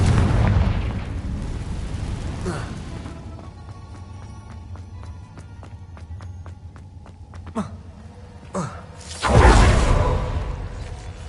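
A Confringo blasting spell in a Harry Potter wizarding video game bursts into a heavy, booming explosion near the end, preceded by whooshing magical effects, short pops and a bed of game music.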